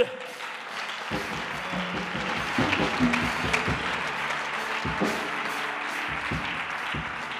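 A church congregation applauding God bursts into sustained clapping that swells quickly and holds steady, a dense crowd of hands filling the room with occasional faint voices mixed in.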